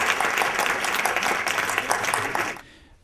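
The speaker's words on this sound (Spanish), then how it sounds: "Un fuerte aplauso para Luis." Audience at a Spanish-language conference on youth, drugs and communication bursts into sustained applause, dense and even, then cuts off abruptly near the end, leaving quiet room tone.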